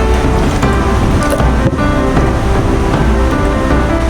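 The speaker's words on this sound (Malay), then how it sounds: "Kita basuh dengan air garam, kita rendam sekejap lah dalam 2-3 minit." Mulberries are washed in a bowl of salt water, with loud, continuous sloshing and splashing close to the microphone and no speech.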